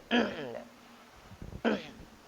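Two hoarse coughs with throat clearing from a man during a Quran recitation lesson, close and distinct, separated by a breath.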